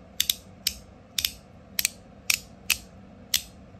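Seven sharp metallic snaps from a copper and stainless steel fidget toy, each a crisp, loud click with a brief ring, spaced roughly every half second and heard up close without any voice.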